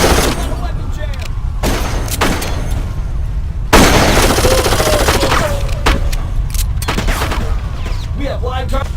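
Gunfire in the Darkest of Days video game, in its Pompeii level, comes as loud, sharp bursts of shots in uneven clusters, with a heavier blast partway through over a constant low rumble of battle.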